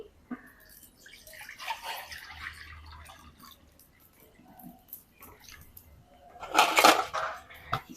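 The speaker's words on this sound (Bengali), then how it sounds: "এবার আমি কড়াই দিয়ে দিচ্ছি পানি" Water splashes and trickles into a metal wok in a few uneven bursts, ending with a louder pour near the close.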